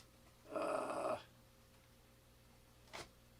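One quick zipper pull rasps close by in a quiet room, followed a moment later by a faint click.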